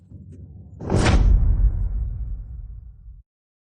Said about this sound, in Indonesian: Mu Guicheng, buka pintu.